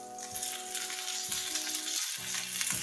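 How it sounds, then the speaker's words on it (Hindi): Kebabs frying in a pan for kabab karahi, a steady soft sizzle with occasional turning scrapes over a low background hum, no talking. "आप कबाबों को जितना अच्छी तरीके से सेकेंगे उतने ही ये सालन में मज़े के लगते हैं।"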